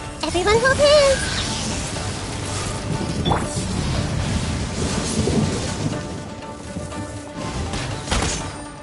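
Rain and thunder skill effect in the video game Genshin Impact: a loud crashing thunder burst over a continuous hiss of rain, with a character's voice over the effect.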